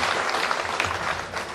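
Steady, dense applause fills a hall at a school awards evening, continuous clapping from a large seated audience with no pauses.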